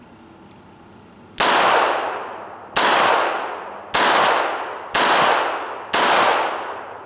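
Five sharp, loud shots from a Smith & Wesson Bodyguard .38 Special revolver, fired close at roughly one-second intervals, each with a ringing decay, and no speech.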